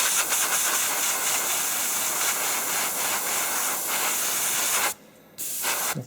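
An airbrush blows a steady, loud hiss of air over a thin coat of matte varnish to dry it, cutting out briefly near the end before resuming.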